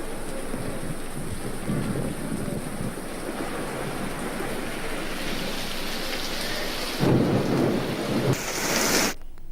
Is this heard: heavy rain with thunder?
yes